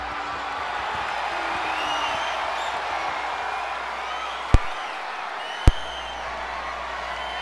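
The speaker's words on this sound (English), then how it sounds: "they turned the crowd mics back on" Crowd noise in a wrestling video game, a steady wash of distant cheering and murmur broken by two sharp loud thumps.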